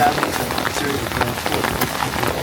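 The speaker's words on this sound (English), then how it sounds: "I know it's raining, so I keep it quick." Steady rain falls in a bamboo forest in Kyoto, a constant close patter of drops hitting leaves and surfaces, with no voices.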